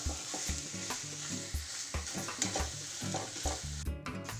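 Grated cauliflower being stirred in a pan for cauliflower paratha filling: repeated scraping strokes of a spoon against the pan, steady and close, over a soft hiss, with no talking.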